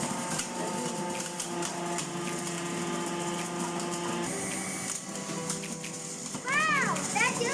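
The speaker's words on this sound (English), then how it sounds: "See how it will blend wonderful." A kitchen blender whirs steadily as it purees carrots, ginger and lemon into juice. Its mechanical motor hum runs throughout, with a child and an adult talking over it.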